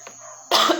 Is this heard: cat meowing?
no